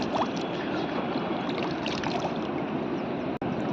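The Ganga river flowing at Rishikesh, a steady broadband rush of cold, clear water, continuous and fairly loud throughout, with no talk.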